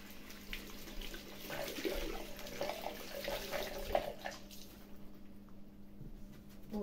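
Tap water runs steadily into a sink as something is rinsed under it, a soft close splashing that thins out toward the end.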